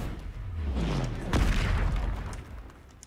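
A Confringo fire-blast spell in the video game Hogwarts Legacy, fought under a tent against a dragon: a booming burst that swells to a loud peak mid-clip, with rumbling low tones under a chanted spell voice.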